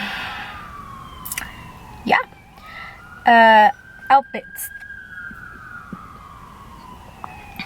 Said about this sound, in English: I'll wait till the sirens are done.